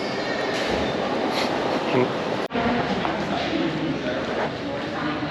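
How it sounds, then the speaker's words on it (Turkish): Busy ambience at Nuremberg central train station with a constant rumbling wash of noise, distant echoing voices, and a brief dropout midway. "Nürnberg merkeze tren istasyonuna geri döndüm."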